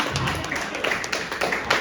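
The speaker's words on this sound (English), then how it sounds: "Let's clap so that we don't get canceled." Audience at a comedy show clapping in a short, steady burst of applause, many hands patting together at close range with no voices over it.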